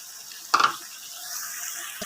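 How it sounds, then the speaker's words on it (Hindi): Chicken pieces frying with spices in a karahi for chicken karahi, giving a steady soft sizzle with a short burst of stirring or scraping near the start and a brief knock at the end. "हमारा चिकन अच्छी तरह से भून चुका है"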